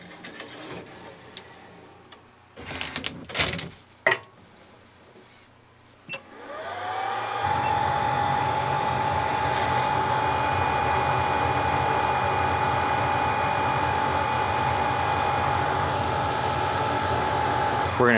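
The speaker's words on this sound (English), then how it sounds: "And now off to the rework machine." Steady whooshing hot-air blast from a BGA rework machine heating the GPU area on a SEGA Chihiro arcade board, rising after a few clicks and handling sounds, then holding as a constant roar with a thin high whine.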